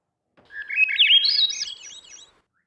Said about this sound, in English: You can even on this page listen to the vocalizations of Swainson's thrush, and you can hear that this flute-like melody seems to spiral upward.